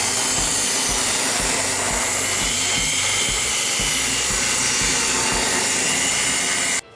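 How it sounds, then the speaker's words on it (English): A power saw cuts wood for homemade crown molding, a loud, continuous rough whine that holds for about seven seconds and then cuts off abruptly. "So we took the saw here"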